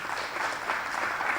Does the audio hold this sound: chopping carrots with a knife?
no